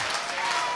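Brief burst of congregation applause during a church sermon, a steady wash of clapping with a voice running over it.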